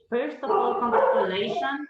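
A dog barks at home during a video-call investor pitch: a short, loud burst of barking and yelping close to the microphone, overlapping a person speaking.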